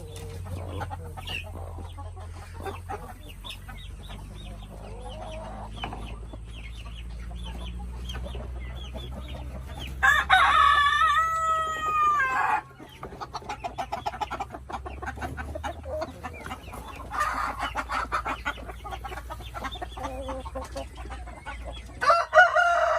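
Chickens cluck continuously in an outdoor chicken range while a rooster crows loudly and clearly partway through, with more clucking and calls around it.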